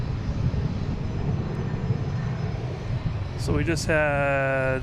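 A Copa airliner taking off at Boston Logan airport is heard as a distant, steady roar under a brief spoken remark, followed by a closer, louder tonal whine near the end.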